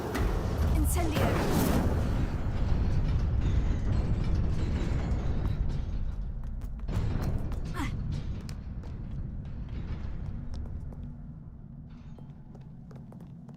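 An Incendio fire spell is cast in Hogwarts Legacy, a sustained roaring, whooshing burst of flame that stays loud for several seconds and then slowly fades, with a few brief pops and crackles on top.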